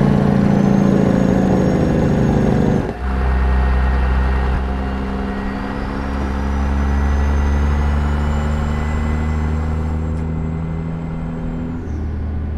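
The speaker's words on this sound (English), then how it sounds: "Turbo's a lot louder." A truck engine with turbo in American Truck Simulator, loud and close; the pitch drops abruptly after a few seconds, then a rising turbo whistle sweeps up and sustains before cutting off near the end, with no speech.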